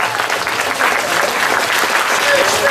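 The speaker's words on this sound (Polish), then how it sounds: "wielkie brawa dla wszystkich gwiazd dzisiejszego wieczoru" An audience at a student freshers' initiation night bursts into loud, sustained applause for the evening's performers, dense clapping close by with voices mixed in.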